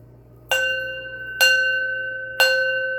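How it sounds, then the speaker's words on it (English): A small hand bell is struck three times at slow, unhurried intervals, each clear metallic ring sustaining and decaying into the next over a faint low hum. "I'm going to ring my bell"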